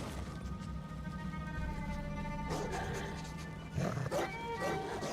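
Dog barking in the game Ghost of Tsushima, a few sharp barks near the end rising over a steady bed of in-game ambience and tonal music, with a voice talking beneath.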